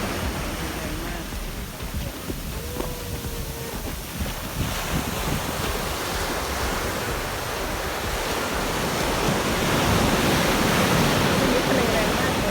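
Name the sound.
strong sea waves breaking on a beach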